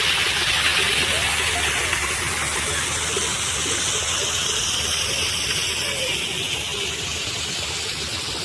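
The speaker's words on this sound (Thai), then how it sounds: "น้ำตกจำลอง" An artificial waterfall in a public park in Xaignabouli pours steadily, a broad continuous rushing hiss that stays loud and unchanging throughout, with no speech heard.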